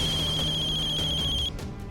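A phone rings indoors with a bright, rapidly pulsing electronic tone that runs steadily for about a second and a half, then cuts off.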